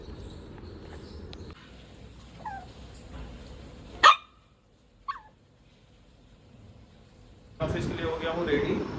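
A dog lets out two short, sharp barks close by during an outdoor morning walk in light rain, with talk and a steady background hiss before and after.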